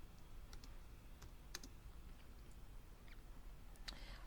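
Soft, irregular taps of typing on a computer keyboard, a few light keystrokes scattered over a low background hiss, faint and fairly distant.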